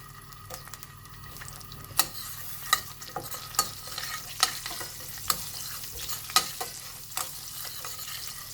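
Butter melting with cumin seeds, chili flakes and garlic crackles in a pan under a constant close sizzle, punctuated by a regular series of sharp spatula taps and scrapes roughly every second, with no one speaking.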